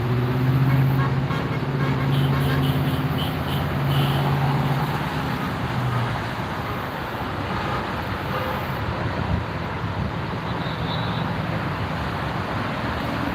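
Highway car traffic rolls past as a steady broadband roar of tires and engines, fairly close and continuous, with a faint horn toot and some louder passing vehicles early on.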